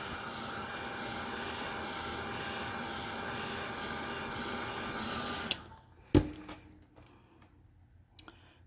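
A heat tool drying Distress Oxide paint between coats blows a steady, loud whirring roar for about five seconds, then cuts off, followed by a sharp clunk as it is set down and a few faint knocks.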